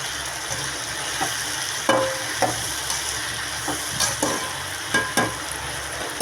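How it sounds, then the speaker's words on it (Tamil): Okra sautéing in an oil-filled pan, a constant close sizzle broken by several sharp spatula scrapes and taps as it is stirred, with no voices. "வெண்டைக்காயை போட்டு வதக்கியிருக்கேன் பாருங்கள்."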